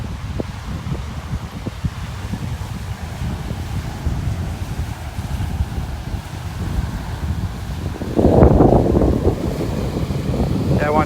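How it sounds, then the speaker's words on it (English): Strong gusty wind buffets the microphone on a beach in North Naples, Florida, a rough, constant roar with surf underneath, swelling into a louder blast near the end. "That wind is getting fierce."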